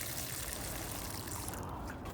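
Water pours steadily into a planting hole for tomato seedlings in a container garden, a continuous close splashing trickle that eases slightly near the end.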